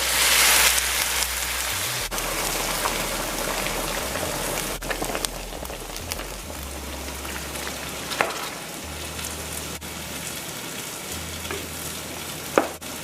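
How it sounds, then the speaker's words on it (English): Steady loud sizzling and bubbling from a pot of katahar curry as boiling water is added, continuous throughout with occasional clinks and a low hum, no voices. "we'll add some boiling water"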